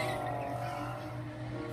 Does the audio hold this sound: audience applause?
no